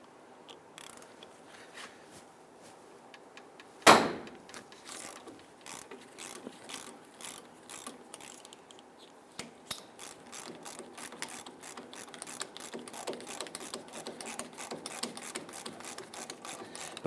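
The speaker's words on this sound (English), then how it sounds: "Now we want to go ahead and loosen and remove the lower bolt first." A wrench loosens a 17 mm lower caliper bolt on the front brakes of a 2000-2006 Toyota Tundra, with a sharp crack as the bolt breaks free, then steady rapid ratchet clicking that grows louder and quicker, close up with no talking.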